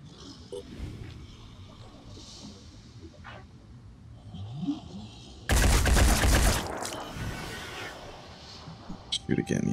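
Gunfire from a squad firing on an enemy in the turn-based strategy game Phoenix Point, a loud burst of shots lasting about a second, then scattered crackles over game ambience with talk around it.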